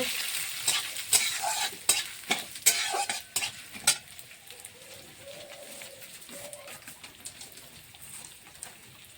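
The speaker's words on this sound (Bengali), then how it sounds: "শুকনো তেলে কড়াইয়ে তেল দিয়ে দিয়েছে, শুকনো লঙ্কা, চিনি আর মুগ ডাল দিয়ে দিল" Dry red chilli, sugar and mung dal are stirred and fried in oil in a wok, giving a steady sizzle under sharp, repeated scrapes of a spatula, with faint bird coos in the background.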